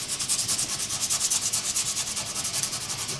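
Steady back-and-forth sanding of a hatchet with fine 220 grit sandpaper, a continuous rhythmic rasping scrub of even strokes, close and fairly loud, with no talking.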